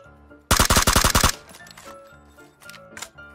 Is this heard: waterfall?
no